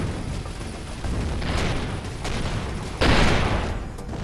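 Ship guns fire in the space game Avorion, booming in several bursts that swell and overlap into a rolling barrage, with the loudest volley near the end.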